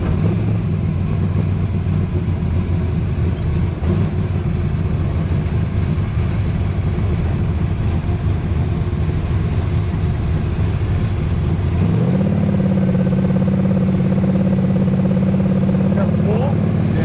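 A 1968 Dodge HEMI Dart GTS muscle car drives along a road, its engine a steady loud rumble from inside the cabin that rises in pitch near the end as it accelerates, with people talking over it.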